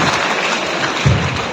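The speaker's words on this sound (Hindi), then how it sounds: "सारे बच्चे हाथ ताली बजाएंगे" Schoolchildren clap together at a skill competition event in Uttar Pradesh, a dense burst of applause from a large group of kids filling the hall, steady throughout with one slightly louder swell near the end.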